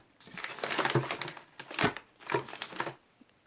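Plastic packaging crinkles and rustles close by during a pantry box unboxing, in several uneven bursts of crackling handling with brief pauses between.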